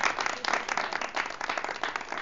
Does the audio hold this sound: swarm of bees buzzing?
no